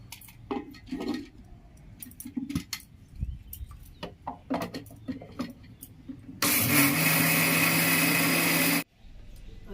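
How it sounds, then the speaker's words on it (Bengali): A mixer grinder whirs loudly as it grinds soaked rice into dosa batter, a steady roar lasting a couple of seconds before cutting off abruptly, preceded by scattered clinks and knocks of handling the jar. "এবার এটাকে আমি মিক্সিতে পেস্ট করে নেব বা বেটে নেব।"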